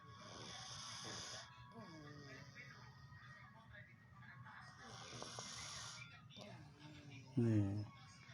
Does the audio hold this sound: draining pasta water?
no